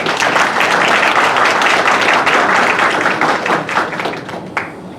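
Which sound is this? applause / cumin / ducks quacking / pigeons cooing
applause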